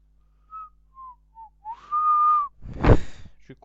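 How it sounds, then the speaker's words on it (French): Short whistled notes, a few separate tones followed by a longer sustained one, then a brief breathy burst at the end. "Je crois que je vous ai niqué les oreilles avec mon sifflement."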